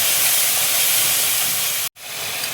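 Ground cumin and coriander in a hot pan sizzle loudly as a little water is added, making a dense, steady hiss that cuts out briefly near the end and then resumes.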